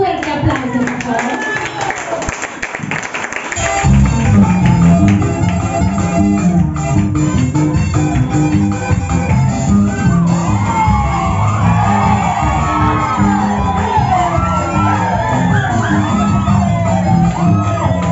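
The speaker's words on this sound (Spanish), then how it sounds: "Un fuerte aplauso, por favor." Cheers, shouts and steady clapping from a live audience after the announcement of the Calpulli ballet's regional dance from Sonora, loud and sustained for many seconds with whoops rising over the din.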